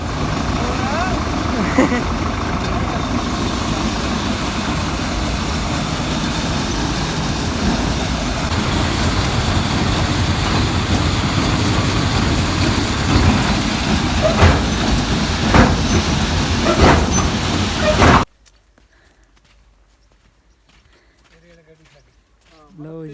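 A tractor drives through farm fields during paddy preparation, its engine a loud, steady rumbling drone that runs for about eighteen seconds and then cuts off abruptly to near silence.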